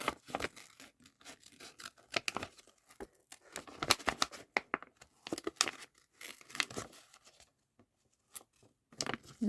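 Scissors snip and rip through a stiff acetate sheet being cut out for a craft banner, irregular bursts of crisp crackling cuts close up with short pauses between them.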